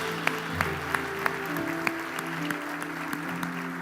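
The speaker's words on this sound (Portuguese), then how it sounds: "Dê um aplauso ao Senhor" Church congregation applauding during a Portuguese-language sermon on forgiveness, a steady patter of many hands with sharp individual claps standing out, moderately loud against a low organ or keyboard drone.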